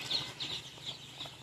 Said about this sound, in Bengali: টাইগার মুরগির বাচ্চা এবং ফার্মি মুরগির বাচ্চা